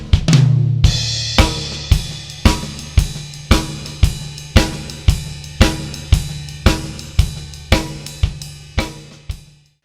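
A blues shuffle groove on a drum kit with a repeating swung pulse, accented hits alternating with softer strokes in a steady rhythm, loud and close with no talking.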